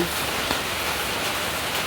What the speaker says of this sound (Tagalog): At ayan na nagsimula na ang ulan.